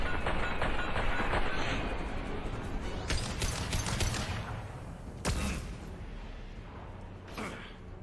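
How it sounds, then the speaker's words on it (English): Flashbang and gunfire in the Mass Effect 2 video game: volleys of rapid shots fade under a steady rumble, then a sharp, loud bang cracks out near the middle, with a few more scattered shots afterward. "Watch out, flashbang!"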